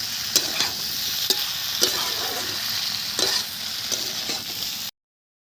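Cumin-coriander paste and chopped tomato fry in a pan with a steady hiss, while several sharp clinks of a spoon stirring against the metal punctuate the sizzle before it cuts off.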